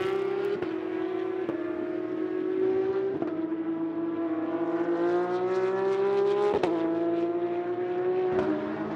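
Porsche Carrera Cup race car climbing a hill during qualifying in the Middle East, engine droning loud and close with a steady rising pitch, sharp gear-change blips at intervals, no voices.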